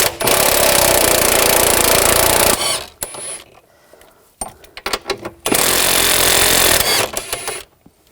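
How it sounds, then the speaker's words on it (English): A power tool, likely an impact wrench with a 16mm socket, removes rear shock absorber nuts on a 2000-2006 BMW X5 in two loud sustained bursts separated by a quieter gap of clanks and handling noise. "Now we're going to take these nuts off,"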